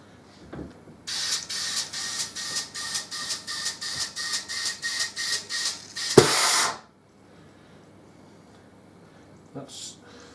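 Air hisses out of a tire valve on a Harley-Davidson Deuce trike with the valve core removed, coming in a run of rapid pulsing bursts and then one louder steady rush before stopping, close and fairly loud.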